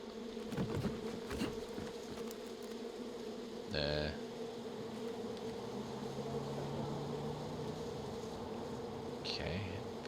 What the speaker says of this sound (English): Definitely bees.